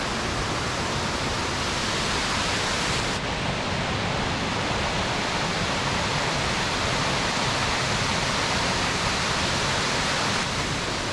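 A steady, dense rush of falling water roars continuously without pause at Philosopher's Falls, Tasmania, broad and enveloping, like standing near a waterfall.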